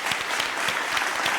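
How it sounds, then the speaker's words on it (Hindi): A studio audience breaks into brief, dense applause, many hands clapping together in a short, even burst. "एक बार बहुत सारी तालियां होनी चाहिए"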